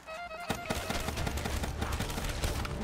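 The Shiva gun firing in Call of Duty Black Ops 3 Zombies on Nacht Der Untoten, a rapid, loud burst of repeated shots after a brief lead-in, hammering steadily to the end with no talk.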